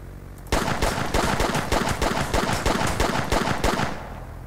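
Rapid automatic gunfire in The Outer Worlds-style shooter Sneak Thief, a loud close burst of evenly spaced shots lasting several seconds, then cutting off, with no talk over it.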